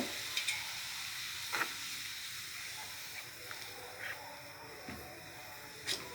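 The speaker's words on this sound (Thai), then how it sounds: "ใส่น้ำล้วนๆน้ำแกงเดือดแล้วหมูลงเลยสองขีดหมู" Pork goes into boiling curry broth with eggplant, and the pot gives a soft, steady hiss and bubbling. A few faint clicks and taps come from the pot now and then.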